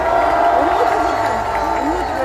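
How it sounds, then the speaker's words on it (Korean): A large outdoor rally crowd on Yeouido for a March 1st national gathering sends up a loud, constant roar of cheering and applause, while an amplified voice talks over it. "정말 우리를 기쁘게 즐겁게 해주신 김영민 씨에게 큰 박수 부탁드리겠습니다."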